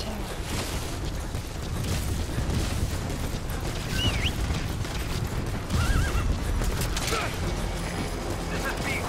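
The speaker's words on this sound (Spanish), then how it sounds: "¡Caballo!" A horse neighs and whinnies in Metal Gear Solid V: The Phantom Pain, with clip-clop hoofbeats and gunfire in a tense, busy field scene, the whinnies standing out briefly over steady rumbling noise while someone shouts.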